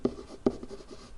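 Two quick pen strokes writing a math expression, short close scratchy taps with faint friction between them, quiet and without talk.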